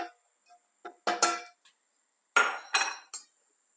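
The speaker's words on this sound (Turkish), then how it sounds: "Şimdi bütün malzememi barbunyamın üzerine dökeceğim." Chopped onion, garlic and carrot tumble into a pot of borlotti beans in a few quick clattering pours, with metallic clinks and scrapes against the pan.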